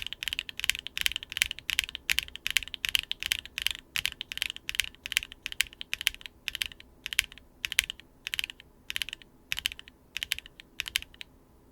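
Rapid keystrokes on a keyboard fitted with HMX Sogurt linear switches and ABS keycaps, each press a crisp, close clack in a steady typing rhythm with brief pauses, no talking.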